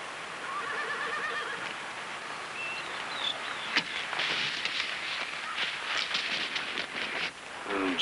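A horse whinnies in a quavering call, then hooves clop along over a steady outdoor background with a faint bird.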